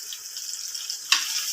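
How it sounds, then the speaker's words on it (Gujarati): Water drains from soaked sabudana as a soft, continuous trickle close by. A brief louder splash comes near the end. "પાણી આવી રીતના નીતાળી નાખવાનું હોય ને તો"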